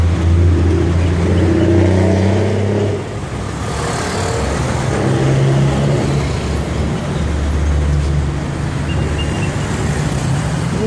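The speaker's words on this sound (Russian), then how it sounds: "здесь выезжают, заезжают машины" Cars driving in and out at a shopping mall entrance in Pattaya, a continuous close roar of passing traffic and engines with a brief dip midway.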